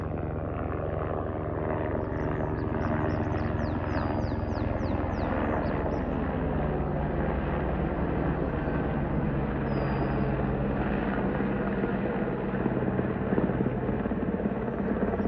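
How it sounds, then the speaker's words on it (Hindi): A helicopter over snowy mountains near Kedarnath drones steadily with a dense, rumbling roar that fills the air throughout, staying loud and constant without clear fading. "और ये जा रही है हेलीकॉप्टर"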